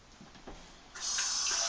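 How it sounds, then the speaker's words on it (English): Water pours into a pot of collard greens for a vegan collard greens and black-eyed peas dish, starting faintly after quiet handling sounds and then running as a steady close splashing stream. "I'm going to add a little water."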